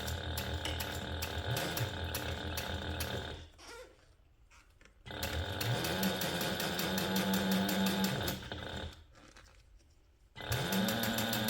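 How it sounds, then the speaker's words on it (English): A sewing machine topstitches a clear TPU and jelly vinyl pouch with a 1/8 inch seam allowance, running in three steady whirring bursts separated by short pauses of quiet handling. "we're just going to top stitch this side using a 1/8 inch seam allowance"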